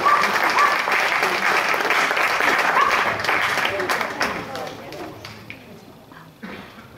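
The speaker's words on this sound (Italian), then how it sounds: "Un applauso, Alessandro." Audience applause at an outdoor film festival evening in Sammichele di Bari, a sustained crowd clapping that gradually fades, with voices mixed in.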